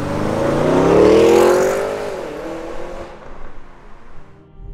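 A 2024 Porsche Cayenne Turbo GT launches hard from launch control, its engine note rising loudly in pitch through the revs, then easing off as it pulls away and fades into the distance.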